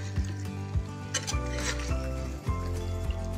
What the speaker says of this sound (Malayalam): ചൂട് മാറുന്നതിന് മുമ്പ് ഇതൊന്ന് ഇളക്കി യോജിപ്പിക്കാം.